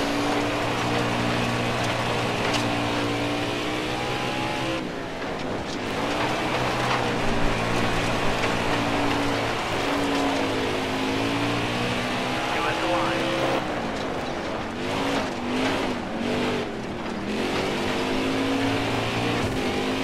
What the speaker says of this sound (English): We're going so fast, we were tapping out the engine.